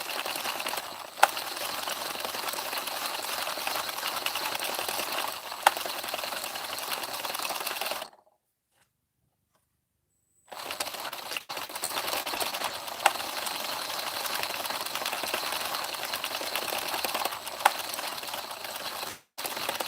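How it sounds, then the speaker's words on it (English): A knitting machine making a blanket, cranked by a power drill attachment, chatters in a fast steady mechanical clatter, pausing for a couple of seconds of silence before resuming at the same even pace. "One thing I like about using the drill attachment is it helps me keep my tension a lot more consistent"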